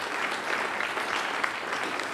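Audience applause at a groundbreaking ceremony for a university track and field facility, a steady dense patter of clapping hands held at even loudness throughout, with no voices above it.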